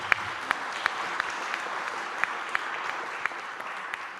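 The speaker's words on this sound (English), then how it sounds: "as you can hear from the applause of the alliances in the room" Steady applause from a conference room audience, a dense wash of clapping hands with no voices, even and moderately loud throughout.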